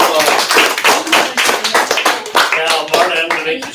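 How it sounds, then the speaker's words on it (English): Classroom audience breaks into a round of applause after a student's 4th-period demonstration, brisk clapping with a few louder hand strikes running steadily throughout. "Round of applause."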